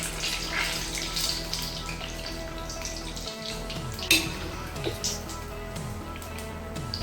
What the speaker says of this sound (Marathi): अगदी व्यवस्थित आपल्याला सोनेरी कलर येईपर्यंत तळून घ्यायचे तेलामध्ये